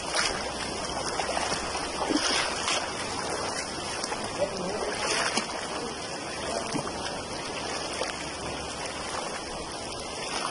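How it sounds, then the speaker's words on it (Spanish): Water flows steadily along the Acahuapa river, a broad continuous rushing wash heard close by throughout, with people talking over it. "Y vamos en el río Acahuapa."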